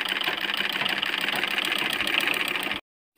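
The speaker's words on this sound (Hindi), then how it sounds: "आपको मशीन को रोक रोक के सिलाई करना होगा।" A sewing machine stitches a blouse sleeve with a continuous close whirring hum that runs for nearly three seconds, then cuts off abruptly into silence.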